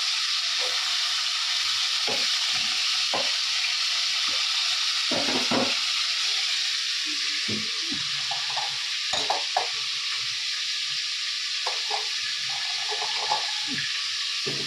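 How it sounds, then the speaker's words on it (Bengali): Salt-and-turmeric-coated fish frying in oil gives a constant bright sizzle throughout, broken by scattered soft taps and spatula scrapes. "এখানে মাছ ভাজাটা বসিয়ে দেবো"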